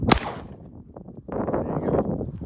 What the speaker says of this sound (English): I'm gonna shoot my 9mm.